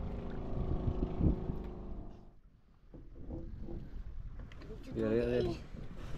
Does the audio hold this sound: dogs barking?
no